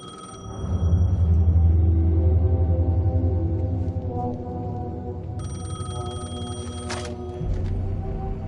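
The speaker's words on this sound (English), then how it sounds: "The payphone was ringing." A payphone rings in the Alan Wake video game, a steady repeating electronic bell that fills the whole stretch, loud and close, with a low droning game ambience underneath and a brief sharper tone near the end.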